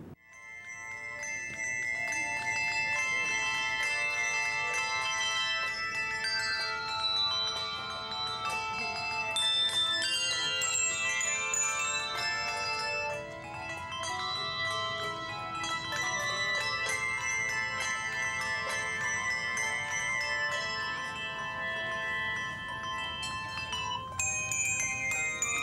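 A handbell choir rings a continuous melodic piece, with many overlapping clear metallic tones sustaining and decaying, bright and steady throughout, no talking.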